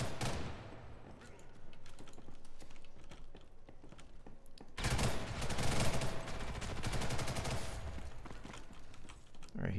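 Weapons fire in a shooter video game, with sharp bursts and rapid volleys that grow denser and louder halfway through, over a steady background of game sound.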